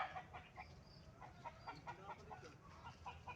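A black chicken clucks repeatedly in short, rhythmic bursts, fairly close, over a faint background hum.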